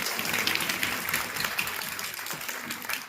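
An audience claps at a retirement ceremony for the NDMC chairman, producing a steady, moderately loud patter of many hands throughout the short stretch without any clear voices.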